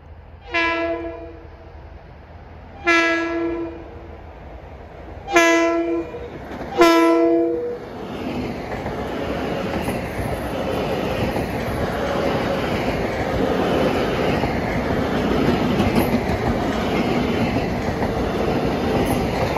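A Long Island Rail Road train, number 1663 from Huntington to Grand Central, sounds four loud horn blasts, two longer then two short, before rumbling and clattering past nearby in a steady roar of wheels.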